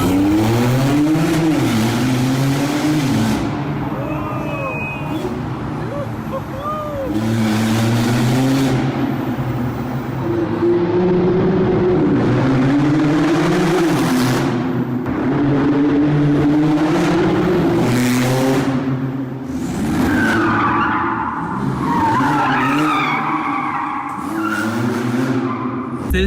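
A Porsche 991.2 Turbo with a twin-turbo V6 driving hard and drifting, its engine repeatedly revving up and falling back with squealing, skidding tires in long rising and falling surges. The sound is loud and close throughout.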